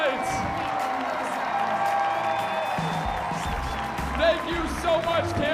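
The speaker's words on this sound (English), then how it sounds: "let's give a round of applause again for your Bananas who had some fun tonight." Stadium crowd at a Banana Ball game in Kansas City claps and cheers steadily for the Savannah Bananas, a continuous wash of applause with scattered whoops under an amplified announcer's voice.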